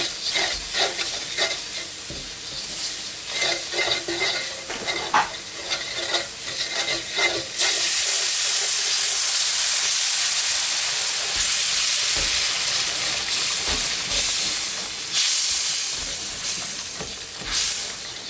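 Loud, steady sizzling of meatball sauce in a hot pan, a constant hiss that swells louder halfway through, with occasional scraping and stirring noises.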